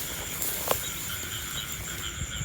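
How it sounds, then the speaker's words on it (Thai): A steady chorus of frogs croaking in a forest after rain, dense and continuous, with crickets or insects trilling alongside; no voices, a constant outdoor night ambience. "เกิดเสียงกบเขียดร้องนี่จังเลย"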